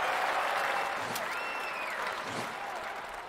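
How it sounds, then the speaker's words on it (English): Steady crowd applause rolls through the shooting event of the London 2012 Olympics video game, a dense, even clapping that slowly fades while a faint voice sits underneath. "Clip that one and earns a round of applause."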